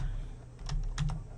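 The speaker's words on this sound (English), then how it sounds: "typing sideways, so it's hard" Someone typing on a keyboard held sideways while entering a student name to log in, producing a short cluster of close, distinct key clicks over a low steady hum.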